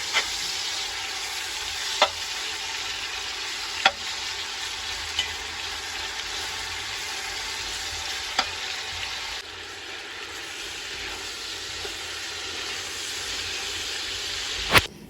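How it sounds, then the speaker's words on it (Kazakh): Marinated meat frying with onions in a pot for Tashkent-style Uzbek plov, a loud continuous sizzle and hiss with a few sharp clinks of stirring, no talking. "Енді үстіне маринадталған етімізді салып, жақсылап әбден пішкенше етімізді қуыратын боламыз."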